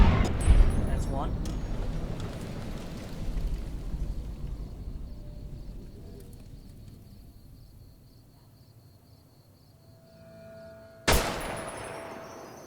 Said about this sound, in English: now you're going to move towards the sound of gunfire